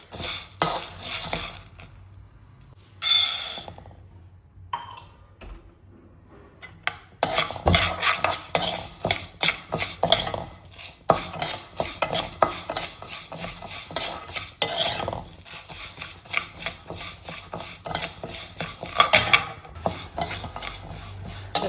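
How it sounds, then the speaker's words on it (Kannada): Urad dal dry-roasting in a pan for a drumstick-leaf chutney powder, with steady scraping stirs of a metal spoon against the pan and a soft sizzle, sparse at first and then continuous and close, with no voices. "ಈಗ ನಾನು ನೆಕ್ಸ್ಟ್ ಉದ್ದಿನಬೇಳೆನ ಹುರ್ಕೊಳ್ತೀನಿ."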